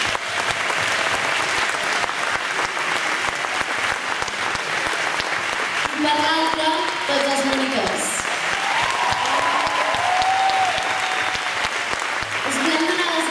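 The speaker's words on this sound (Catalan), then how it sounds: "Per una banda, la gent del despatx, un fort aplaudiment." An audience at a summer camp rock concert in Macedònia claps loudly and steadily, sustained applause with a few cheers, while a presenter speaks over it through a microphone.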